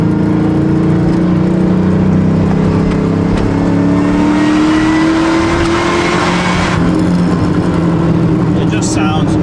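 Blown LS3 V8 in a race truck revving hard, a loud sustained engine roar with a rising pitch that climbs then drops away, alone without talk.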